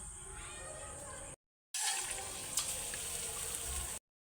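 Chopped banana flower (mocha chop) patties frying in hot oil in a kadai, giving a steady close sizzle that cuts out briefly, then resumes at the same level.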